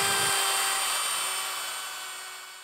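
A bearing-guided router trims wood along a template with a loud, steady high-pitched whine, close by and alone, the cut tapering off slightly toward the end.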